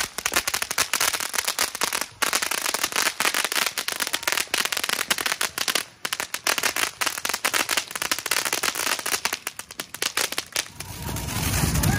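Fireworks and firecrackers set off for a Fourth of July celebration, with a dense, continuous barrage of loud crackling pops and bursts filling the whole stretch, easing slightly near the end.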